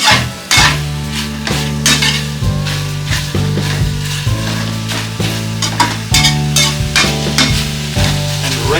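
Pork for adobo frying on high heat to render its fat, heard as a loud continuous sizzle with repeated spatula scrapes and clanks against the pan, under steady background music.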